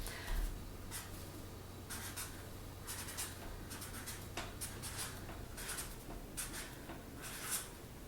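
A pen scratches numbers onto a sheet of paper in short bursts of quick strokes with small pauses between, close and quiet, with no talking.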